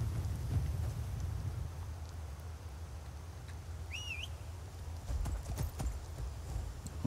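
Horse hooves clip-clopping at a walking pace in the fantasy game Skyrim, a rhythmic low thudding with a short whinny midway and occasional sharper clatters, faint outdoor ambience behind.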